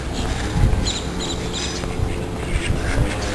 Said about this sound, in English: The ducks.